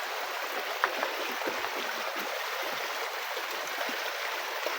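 A steady, soft rush of water flowing through a stream hidden among bushes and trees in Kanhati Garden, an even broadband wash heard alone with a faint, distant quality.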